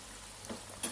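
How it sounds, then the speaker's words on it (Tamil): Onion bonda fritters deep frying in oil give a soft, steady bubbling hiss, with two brief swells of sizzle close by in a short moment. "வெங்காயம் பாருங்கள் நல்லா கிறிஸ்பாக ஃப்ரை ஆகிருக்கு பாருங்கள்"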